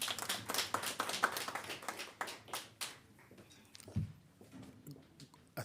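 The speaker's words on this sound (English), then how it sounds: "A round of applause, please." Scattered clapping from a ceremony audience at a World Press Freedom Day hand-over event, sharp claps that thin out and fade to sparse taps over several seconds.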